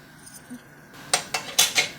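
Metal spoons chilled in a freezer clink against each other and a dish while apple pie jelly is being tested for set, with a few quiet handling sounds followed by four bright, close clinks.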